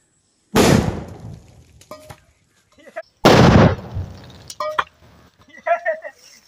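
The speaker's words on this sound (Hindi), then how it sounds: "तो यहाँ पर हम इस सुतली बम में आग लगाते हैं सबसे पहले।" A green sutli bomb firecracker explodes under a steel pot: two loud, sharp booming blasts about three seconds apart, each followed by rattling and voices in the quiet gaps.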